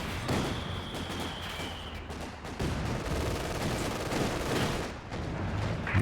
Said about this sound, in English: Mortar at least finding some good targets for dealing some damage